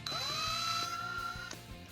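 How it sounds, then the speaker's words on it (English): A power drill bores slowly through a blank Tekno RC shock piston held flat against the bit, giving a close, steady whine with a sustained tone and a brief catch near the end. "I try to get my drill really flat up against the piston."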